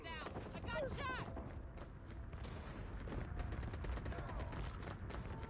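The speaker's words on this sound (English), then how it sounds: "A gunshot." Rapid bursts of automatic AK-47 gunfire crackle in a Call of Duty Mobile firefight, dense and continuous with sharp repeated shots layered over in-game effects.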